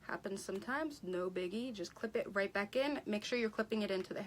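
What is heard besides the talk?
None of the usual background noises is heard.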